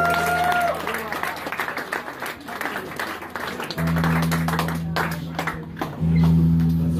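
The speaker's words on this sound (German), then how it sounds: "Ein Applaus für die Mädels an der Theke." A bar crowd at a blues festival claps briefly in a scattered round, mixed with a steady hum of stage equipment and background chatter, with a loud amplified drone rising partway through.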